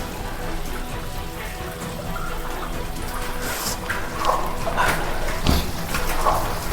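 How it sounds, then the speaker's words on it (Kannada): Steady rain patters and drips close by at Manjarabad Fort, a hill fort, with scattered louder droplets splashing on a surface and a faint bark far off. "ಮಳೆ ಜಾಸ್ತಿ ಆಯ್ತೈತೆ"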